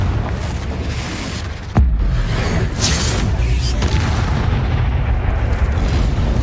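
A Bombarda spell explosion in the Hogwarts Legacy video game lands as a sudden heavy boom with a deep rumble, then gives way to continuous loud blasts and noise.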